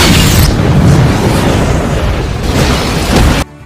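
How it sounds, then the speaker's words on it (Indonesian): A loud, rumbling explosion of an oil tank on a ship in a film fills the clip with a dense roar that sustains for a few seconds, then cuts off abruptly. "Ray pun menembaki tangki minyak yang ada di kapal tersebut dan mengakibatkan terjadinya ledakan"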